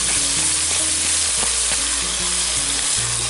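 Finely chopped tomato fries in a pan for a village-style pork curry, giving a loud, steady, close sizzle with a few soft stirring knocks throughout and no voices.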